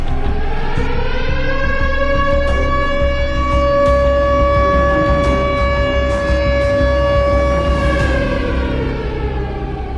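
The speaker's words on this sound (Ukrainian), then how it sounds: "Гудить. Сирена" An air raid siren drones loudly and steadily throughout, its rising and falling wail holding strong in a Ukrainian wartime audio drama, with no voices over it.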